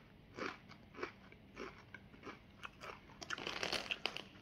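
Doritos Diablo tortilla chips being bitten and chewed, with a close, crisp crunch every half second or so that grows into a denser run of crackling chews at the end, with no talk.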